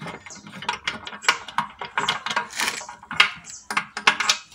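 Tightening subframe bolts on an Alfa Romeo 147 with a ratchet, giving a quick series of sharp metallic clicks in irregular bursts, close and fairly loud, with no talking.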